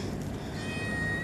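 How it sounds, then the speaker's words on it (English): A cat cries outdoors with a single sustained, moderately loud meow that fills the whole moment, with no speech. "My neighbor's cat's crying."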